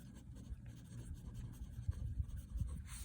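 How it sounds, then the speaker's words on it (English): Pen or marker writing on a graph during a statistics lesson on histograms, a soft, close scratching of short strokes, quiet and continuous, with no talking. "Let me write this a little better."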